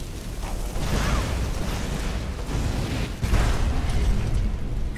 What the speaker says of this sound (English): Quite the explosions.